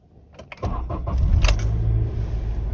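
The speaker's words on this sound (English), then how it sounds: "We're going to start the car." A car engine cranks and catches at about half a second, then settles into a steady loud idle, with a few faint clicks and jingles just before it starts.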